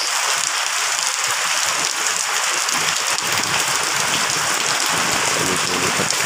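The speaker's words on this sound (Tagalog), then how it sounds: "Kaya medyo malakas ang ulan." Steady, dense downpour of heavy rain hissing continuously on surfaces, loud and unbroken throughout.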